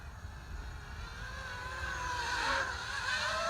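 An Eachine Racer 250 PRO racing drone flies outdoors in wind, its motors giving a steady whining buzz that climbs and grows louder toward the end, with no voices.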